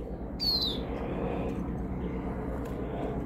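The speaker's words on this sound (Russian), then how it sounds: "Это самец зеленушка." A male European greenfinch gives a single short, high whistled note near the start, then only a steady, noisy outdoor background remains.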